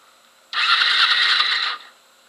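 The carbureted engine of a 2004 Kawasaki Ninja 250 cranks with a steady, whirring starter motor for about a second against a quiet background, then falls silent, close by, with no talking.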